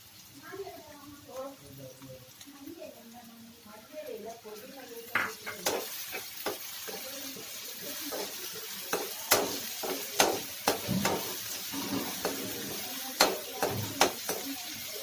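Garlic frying in a pan for Gobi Manchurian, a steady sizzle with sharp metallic clicks and scrapes of stirring that grow busier and louder toward the end, with a voice talking early on.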